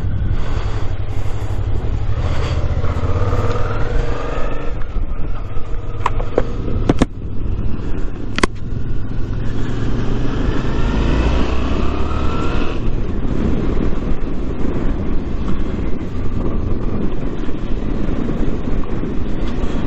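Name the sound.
Suzuki V-Strom 650 motorcycle riding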